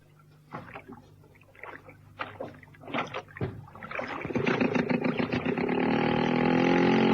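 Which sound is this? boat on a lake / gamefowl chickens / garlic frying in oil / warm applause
boat on a lake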